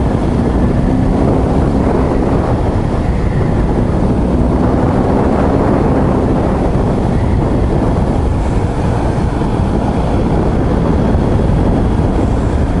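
A BMW R1250 GS Adventure motorcycle's 1250 boxer engine drones steadily while riding, a loud continuous low rumble heavily mixed with rushing wind noise throughout.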